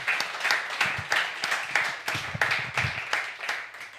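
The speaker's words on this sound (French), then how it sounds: "quelques applaudissements pour Maître Lelon" A small studio audience at a French comedy show claps for an arriving guest, making sparse, uneven applause with distinct individual claps at close range.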